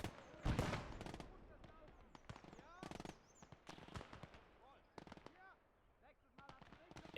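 Machine gun fire in the Gates of Hell strategy game: sharp, irregular bursts of rapid shots and distant battlefield explosions, faint and scattered across the clip, with voices mixed in.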